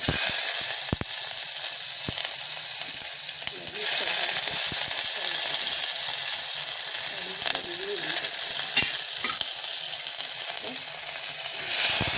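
Onions fry in sesame oil with mustard seeds, giving a steady, loud sizzle with occasional stirring clatters and crackles throughout, with no talking.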